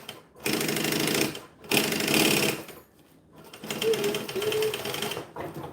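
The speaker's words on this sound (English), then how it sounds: "I'm just stitching right at the edge" A sewing machine stitches right along the edge of bonded nylon fabric in two loud, steady bursts of rapid mechanical chatter, separated by a short pause, followed by a slower, uneven run of stitching.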